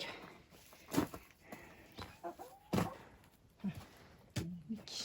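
Several short clucks from chickens at close range, scattered irregularly among quiet rustling and light movement.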